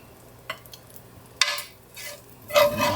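Crispy bacon tipped into a seafood boil pot, a few soft clattering drops and a brief sizzling rush spread across the moment, close and fairly quiet with no talk.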